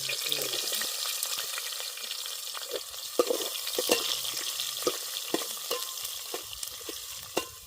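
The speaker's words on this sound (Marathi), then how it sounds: "कांदा टाकून घेते, तेल पण लय तापलंय." Onion frying with a bay leaf in very hot oil, a steady crackling sizzle with scattered scrapes and taps of a spoon stirring, without any talk.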